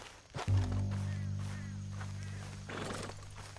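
A horse in the video game Red Dead Redemption 2 gives a short whinny and snorts close by, with hooves thudding on the ground afterward.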